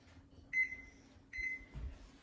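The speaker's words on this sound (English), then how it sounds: "I'm going to turn my oven on to bake" Two short electronic beeps from a kitchen oven's control panel as it is set to bake, spaced under a second apart, clear and close against a quiet room.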